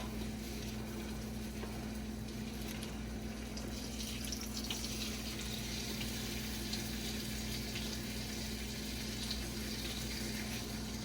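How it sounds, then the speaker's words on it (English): Bacon frying in a pan gives off a steady, soft sizzle and crackle over a low, constant hum, faint and unbroken throughout with no voices. "put in the rest of the bacon on the pan"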